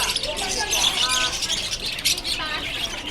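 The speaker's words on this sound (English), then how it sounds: "Oh, I think I can hear the birds." Birds at a bird market in Kunming, China, chirping and squawking close by in a dense, busy chorus of overlapping calls, with a person talking over them.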